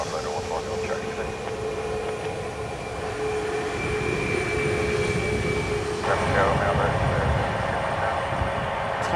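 A Ryanair jet taking off from runway 10 right at Dublin Airport, a steady broad engine roar that swells slightly as it goes, heard from a distance with radio chatter over it.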